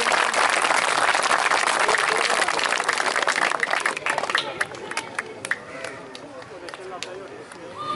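Crowd applause at a farewell ceremony for a teacher, loud dense clapping that thins out into scattered claps and murmuring voices over several seconds.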